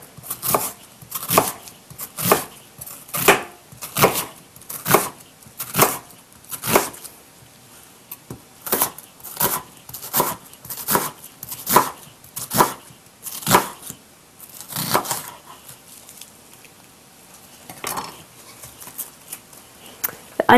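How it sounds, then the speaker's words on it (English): A knife slices half a peeled onion into thin strips on a cutting board for vegetable fajitas, a steady run of sharp, close chopping strokes in quick rhythm with a few brief pauses. "So we just slice this into thin strips by cutting along the lines."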